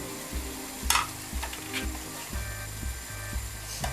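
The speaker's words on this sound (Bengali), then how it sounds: "আবার আমি ঢেকে দেব এবং দিয়ে দিচ্ছি ব্রোকলিটা।" Broccoli going into a hot pan of mixed vegetables for Chinese restaurant-style stir-fry, a soft sizzle under a low rhythmic thumping, with a few brief clatters and no talking.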